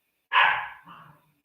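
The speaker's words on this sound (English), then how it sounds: "My dogs are playing before you get bent out of shape because they're dogs and they play." Pet dogs playing indoors, one sharp close bark followed by a softer, shorter yip, then silence.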